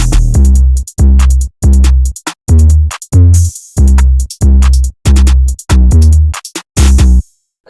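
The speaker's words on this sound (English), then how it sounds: "My drums will sound like this, the whole MIDI of the drums." A trap drum pattern with heavy 808s and kicks thumps in a steady loop of loud, booming hits with sharp high transients on top, dense and close with brief gaps between bars.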